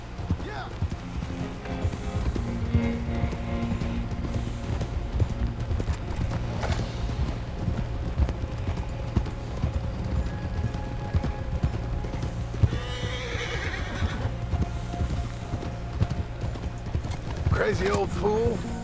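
Horse hooves clip-clop steadily throughout a Red Dead Redemption 2 game scene, with occasional neighs, under continuous background music and talk.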